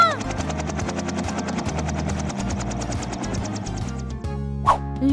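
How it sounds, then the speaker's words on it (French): A helicopter's rotor thumps in a fast, even rhythm, loud and near, with a brief squeaky sound effect near the end. "Oh, un hélicoptère!"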